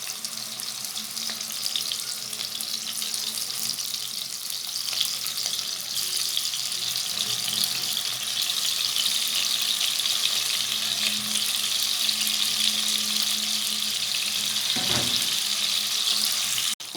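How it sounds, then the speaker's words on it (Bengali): Salt-and-turmeric-coated aair fish frying in hot oil over a medium flame, giving a continuous, even sizzle and crackle heard close and alone, with a brief clatter near the end. "তেল গরম হয়ে এসেছে, লবণ আর হলুদ দিয়ে মাছটা মেখে রেখেছিলাম সেটা এখন ভেজে নেব।"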